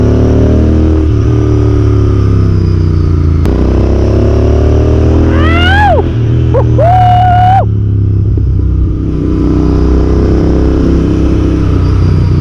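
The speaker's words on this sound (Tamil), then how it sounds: "I feel very happy and comfortable riding this bike." A Royal Enfield Interceptor 650 motorcycle engine rumbles steadily and loudly close by throughout, with a brief rising whine of revving in the middle.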